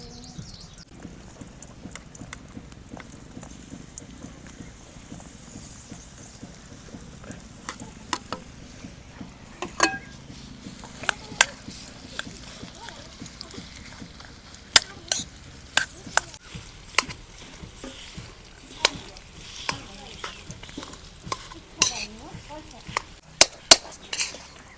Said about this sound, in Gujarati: ઘી ગરમ થઈ ગયું છે. હવે તો આપણે એમાં ખજૂર નાખી દઈશું.